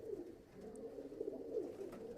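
A female teddy pigeon of the churail breed cooing softly and continuously, a low faint throaty murmur with slight swells, close by in a quiet room.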